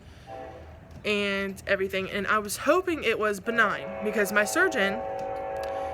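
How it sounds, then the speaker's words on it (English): A train passes close by outdoors, with a loud horn blasting and rumbling on and off over several seconds while a person keeps talking underneath. "sorry about the train, really am"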